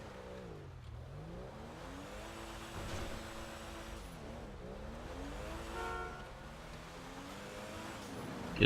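A car engine in GTA Online revs in several rising and falling swells, quiet and alone, with the pitch climbing and dropping between bursts.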